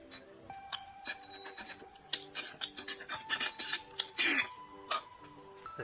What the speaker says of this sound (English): tap a thread into this hole here